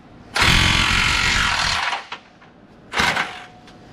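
A rapid, harsh mechanical burst from a tool hammering on a lower control arm part of a 2009 Ram 1500 2WD: one loud sustained run of about a second and a half, a pause, then a shorter burst.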